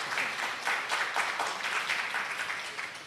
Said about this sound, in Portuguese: Além da salva de palmas à Verônica